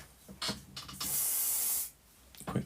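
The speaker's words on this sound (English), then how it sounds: "Quick blast with the hairspray to hold it in place" Hairspray aerosol can fired in a quick burst onto model foliage for a French chateau build: a steady close hiss lasting under a second, preceded by soft handling rustles and clicks.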